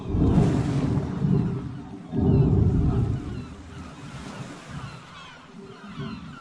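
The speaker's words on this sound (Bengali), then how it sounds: "শুধু শান্ত হয়ে আসা সমুদ্রের মৃদু ঢেউয়ের শব্দ" Gentle ocean waves after a storm wash in soft, broad swells, two fuller surges early on followed by quieter, lapping rolls, steady and alone with no voices.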